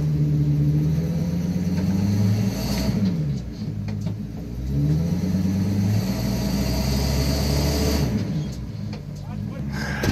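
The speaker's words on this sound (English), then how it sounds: "And we're pulling it with the truck." A truck engine rumbles and revs as it pulls forward to draw a strap tight during steering clutch and brake work on a CAT 933G loader; low, close engine tones rise and fall steadily.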